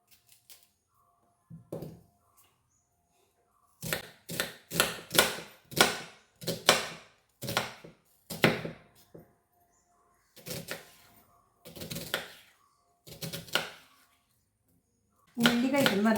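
Knife chopping tomatoes, green chillies and onion on a cutting board, sharp crisp taps in quick bursts separated by pauses, close and clear.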